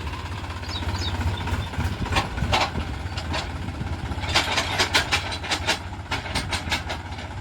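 Massey Ferguson tractor engine running with a steady low rumble, overlaid by a series of rhythmic clicking, knocking bursts partway through; no talk.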